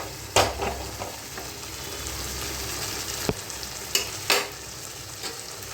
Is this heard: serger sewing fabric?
no